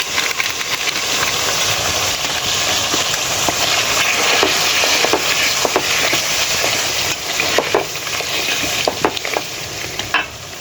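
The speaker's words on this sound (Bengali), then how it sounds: "আদা বাটা দিয়ে একটু ভেজে নিব" Ginger paste fries in oil in a pan for chicken biryani, a loud steady sizzle broken by the scrapes and taps of a spoon stirring it.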